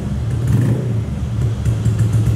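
Modified Honda Vario 150 scooter engine running loud and steady with a low, throbbing exhaust note and slight revving swells, close up.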